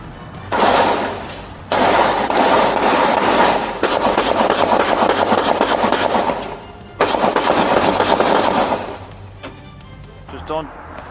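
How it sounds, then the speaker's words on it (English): Rapid bursts of automatic gunfire from a strip mall crackle in several long volleys, loud and close, with short pauses between them. "officers suddenly heard gunfire coming from a nearby strip mall"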